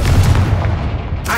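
A single booming blast from the Confringo spell in Hogwarts Legacy, heavy and close, fading out quickly over a second.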